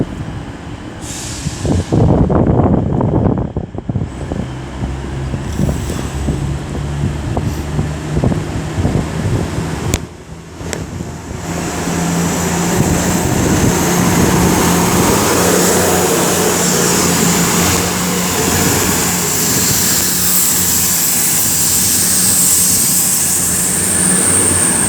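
An East Midlands Railway Class 222 diesel train departs Derby station, its engines building from a close rumble into a steady, loud drone with rising whine and wind buffeting as it pulls away.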